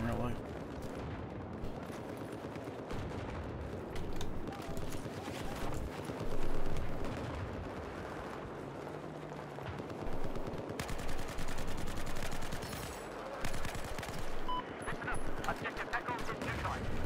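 Bursts of gunfire from Battlefield 4 rattle in dense, overlapping volleys with distant booms, continuous and busy throughout, with someone talking over them at times.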